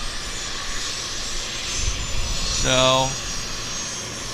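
A Boeing 787 Dreamliner at Vancouver airport gives off a steady jet engine roar, joined briefly by a rising whine, with someone speaking over it.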